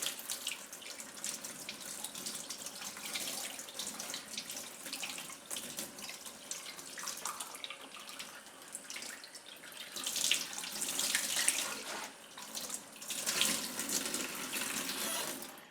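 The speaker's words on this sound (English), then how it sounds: "warm them up a little bit, running them under water." Tap water runs steadily into a sink over popsicle molds, a soft continuous splashing that grows louder in a couple of bursts partway through.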